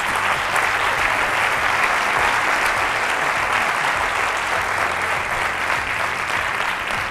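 A packed hall at a local electoral debate in Navarcles breaks into sustained, dense applause, a loud steady roar of many hands from start to finish.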